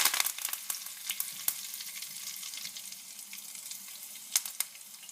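Curry leaves hit hot oil for Trini-style khichdi, crackling and sizzling in sharp bursts that settle into a steady fry, with a few louder pops near the end.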